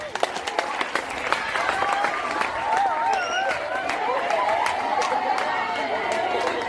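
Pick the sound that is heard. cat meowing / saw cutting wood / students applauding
students applauding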